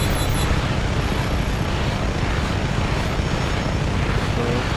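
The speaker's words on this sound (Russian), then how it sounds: "решил попробовать я вот этот вертолет, который мне открылся большой" A large helicopter in Just Cause 3 thunders steadily and loudly throughout, a dense constant rotor and engine roar with no talk over it.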